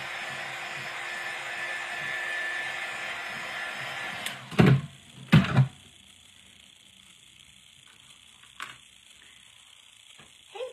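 A hair dryer blows steadily for about four seconds to dry a craft project, then cuts off, followed by a few sharp clunks and knocks of handling and a quiet background.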